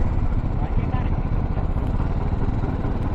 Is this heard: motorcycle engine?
yes